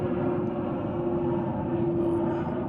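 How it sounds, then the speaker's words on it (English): An airplane flies over a farm field with a steady, droning engine roar and a sustained tonal hum, loud and unbroken, with no one speaking. "Airplane."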